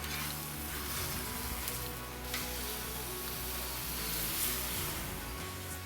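Garlic butter steak bites fry on a Blackstone griddle, giving a steady, close, dense sizzle that swells slightly near the end, with no talking over it.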